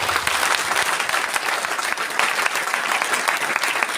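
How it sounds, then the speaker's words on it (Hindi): Audience applause at a business gathering in Gurugram, steady dense clapping that fills the whole stretch without a break, loud and close, with no talk over it. "एक बार ताली बजाइए उसके लिए।"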